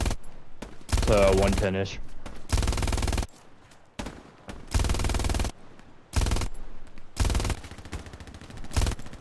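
A machine gun fires in the video game Hell Let Loose during a D-Day beach landing defense, with loud rapid bursts of varying length separated by short pauses and a player's voice speaking briefly between them.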